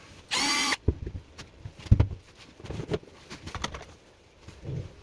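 A Bosch 15-piece drill bit set boring into a wood slice for a wall clock gives one short, loud buzzing burst near the start, followed by scattered knocks and handling clatter at close range.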